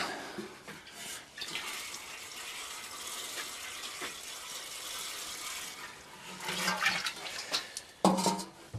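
Water pours steadily over hardened-off bushy garden plants, a continuous splashing gush with surges toward the end, with no voices.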